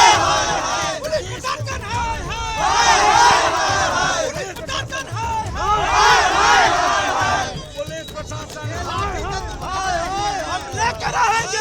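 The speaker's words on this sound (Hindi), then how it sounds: "सिविल कोर्ट के बाहर प्रशांत के समर्थक बड़ी संख्या में मौजूद हैं, वो नारेबाजी कर रहे हैं।" Prashant Kishor's supporters, gathered in large numbers outside the Patna civil court, chant slogans loudly in rhythmic surges. Crowd noise and shouting voices fill the scene throughout.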